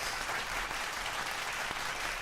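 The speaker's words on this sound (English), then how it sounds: "Double applause." A soundboard applause effect plays as a dense, steady burst of clapping that fills the short stretch at an even level, with no voices over it.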